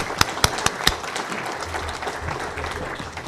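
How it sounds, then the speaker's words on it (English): An audience at a club meeting applauds a speaker named Joy, a few sharp separate claps at first merging into a steady wash of clapping that holds to the end. "Let's give Joy a round of applause"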